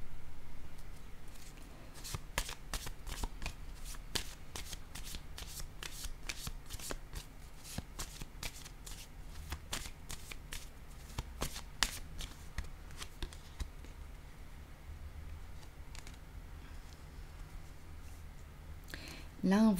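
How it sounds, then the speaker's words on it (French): Playing cards shuffled and handled in a steady run of crisp riffling snaps and flicks, close and fairly quiet, with a brief low voice at the very end. "Je vais déposer une carte sur le terrain de jeu."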